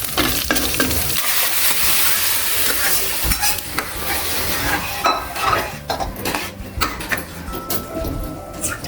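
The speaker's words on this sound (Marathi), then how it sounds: "त्याच्यात लसूण टाकलं आहे आणि हे कढीपत्ता टाकला." Garlic, curry leaves and asafoetida sizzle in hot oil for a toor dal tempering, a loud steady frying hiss close up, with a spoon stirring and scraping the pan and clinking utensils.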